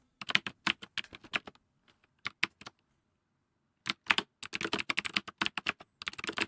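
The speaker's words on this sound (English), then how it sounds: "Almost exactly 1 minute of typing hello world programs and I got bored." Computer keyboard typing from an ASMR coding session, crisp close key clicks in quick bursts separated by pauses.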